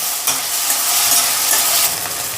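Ginger garlic paste frying in a pan, stirred while cooking a Rui Mughlai fish dish: a loud, close, continuous sizzle with a few quick scraping strokes of the spoon across the pan.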